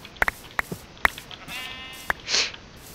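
Sheep in the game Minecraft bleat in a short wavering cry, close and clear, among sharp clicks and small in-game sounds, with no talking.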